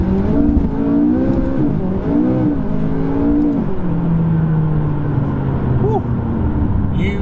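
A McLaren 570S sports car's turbocharged engine accelerating hard, heard loud from inside the car as its note climbs and shifts through rising pitches, with someone talking over it.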